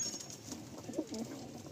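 A pigeon kept for sale in Kolkata gives a soft, low coo, a single brief rolling call, faint and close.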